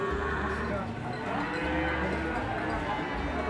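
Cattle, including large PO breed cows, at a livestock market, a low drawn-out moo over steady crowd and market bustle.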